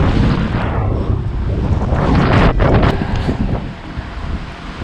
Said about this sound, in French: Puisque le vent a vraiment forci en fait.